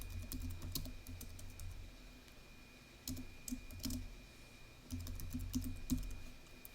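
Typing a password hint on a computer keyboard, close and quiet key clicks in short bursts separated by brief pauses, with no talking.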